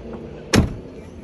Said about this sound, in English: Apart from the door opening and closing again.